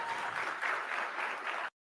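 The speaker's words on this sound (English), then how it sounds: "So he just gets clapped for that." An audience claps steadily for under two seconds, a dense even wash of applause that cuts off abruptly.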